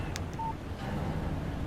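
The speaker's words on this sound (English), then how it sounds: "Text message from Barry" A short phone text-message alert in the video game Alan Wake Remastered, a quick pair of bright electronic tones over a low, steady background murmur, with no talking.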